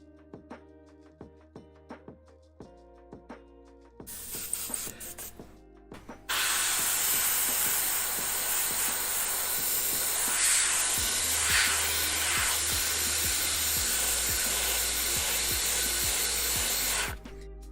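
A spray gun spraying thinned paint hisses loudly and continuously for over ten seconds, preceded by a few short clicks and brief bursts of spraying.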